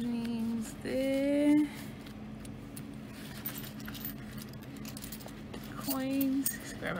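Metallic clinks and light jingling of coins being handled close by, scattered irregularly under a steady background hum and brief voices.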